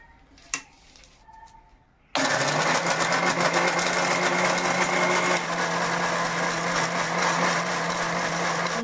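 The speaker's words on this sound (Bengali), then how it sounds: "এখান থেকে আমি টমেটোটা গুঁড়ো করে নেব" Electric grinder pulverizing dried tomatoes into powder, starting abruptly after a couple of seconds of quiet with faint clicks, then running as a loud, steady, high-pitched whirring drone that holds without letup to the end.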